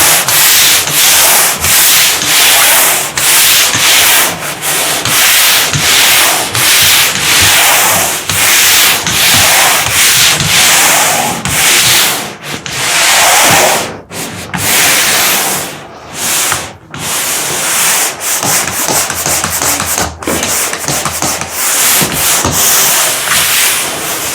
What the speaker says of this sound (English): And sand everything.